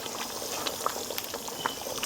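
A red oil vegetable stew bubbles softly in a pot, a faint continuous simmer with scattered small pops and no talking.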